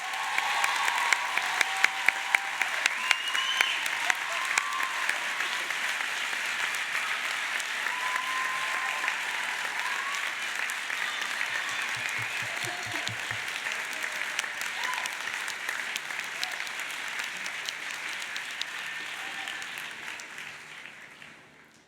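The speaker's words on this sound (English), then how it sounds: "That was the biggest round of applause of the day" Sustained, loud audience applause at a health sciences graduation ceremony for the class of 2018, a dense steady round of clapping that carries on for about twenty seconds before fading.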